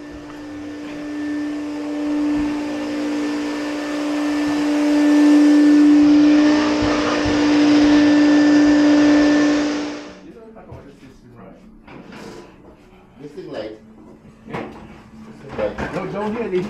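A vacuum cleaner drones steadily for about ten seconds, rising slightly in pitch and loudness before shutting off, after which scattered clunks and handling noises follow nearby.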